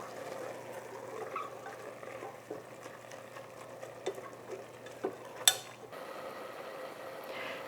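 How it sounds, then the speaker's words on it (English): Onions frying with beef in a pot, a quiet low sizzle with occasional stirring scrapes and small clicks, close and faint, with no talking. "I'm adding the onions and let them fry a little bit too"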